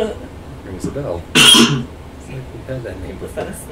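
A single short, sharp cough or throat-clear breaks out loudly amid conversation, with people talking just before and after it.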